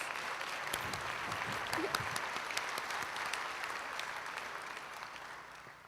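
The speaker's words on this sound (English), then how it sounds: "of course, some applause" Applause from an audience at a college fall convocation, a steady wash of many hands clapping at moderate level that thins out slightly toward the end.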